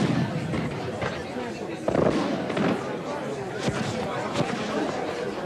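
A fireworks display over a seaside pier during a town gala week, with a steady series of bursts and crackles over a continuous crowd murmur and chatter.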